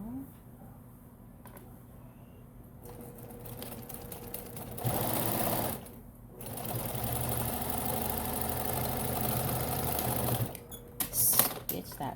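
Sewing machine stitching a double pocket bag closed, starting mid-clip as a loud, steady mechanical whir that runs for several seconds under a constant low hum, with handling clicks around it.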